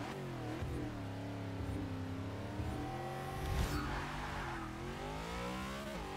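A race car launches in the Forza 6 racing game during a quarter-mile test, its engine roaring loud and close, revving through rising pitches with quick gear shifts and a brief tire squeal.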